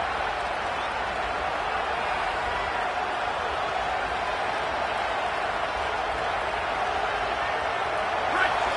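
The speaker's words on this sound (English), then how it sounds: "This crowd bringing serious noise on this huge 4th down play" A stadium crowd at the Oregon vs Georgia football game roars in a dense, unbroken wall of noise on a big fourth-down play, holding steady throughout without easing.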